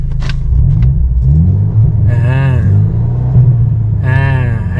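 Armytrix valved exhaust on a Mercedes-Benz W205 in its loud sound-emphasis mode, heard from inside the cabin as a steady low droning rumble with two rising revs.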